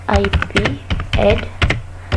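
Router configuration commands are typed on a computer keyboard, the key clicks running steadily beneath a man's continuous speech.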